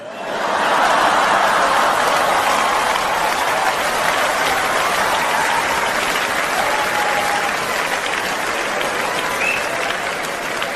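A stand-up comedy audience claps loudly and continuously, with scattered chuckles mixed into the thick, sustained applause that fades slightly toward the end.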